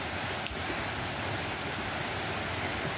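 Heavy rain comes down on a village near a shelter shed, a loud, unbroken wash of drops beating on surfaces close by, with one sharp knock early on and no voices.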